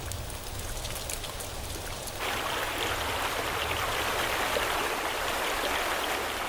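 Heavy rain pours onto flooded land along the Zambezi, a dense steady hiss of drops that grows louder and fuller partway through, with no voices.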